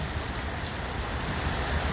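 Heavy rain pours steadily in Ajman during a flood, a dense continuous hiss and patter close by with no voices, holding an even intensity throughout.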